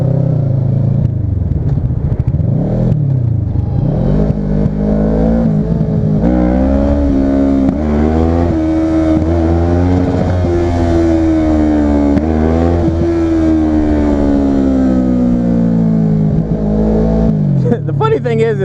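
Motorcycle accelerates hard in first gear up to around 35 mph, engine note rising and falling through repeated revs, loud and close, with a rider talking over it.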